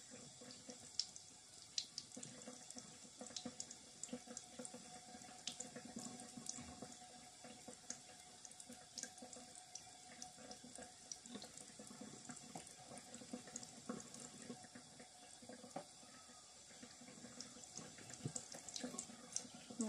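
Tap water runs steadily into a sink for about twenty seconds while snails are washed, a continuous close hiss and splash with no voices.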